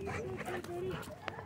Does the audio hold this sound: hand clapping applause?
no